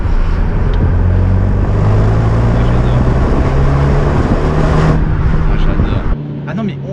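A car engine drones loudly and steadily, its pitch rising as it pulls from about 50, then drops away sharply near the end; an F4 RT engine in a French shooting-brake car.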